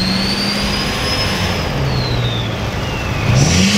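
Big-turbo GMC Sierra 2500HD pickup engine roaring loud and steady, with a high whine sweeping across and the pitch climbing near the end as it revs up, no talking over it.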